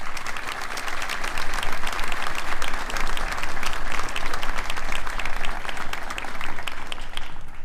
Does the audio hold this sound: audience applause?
yes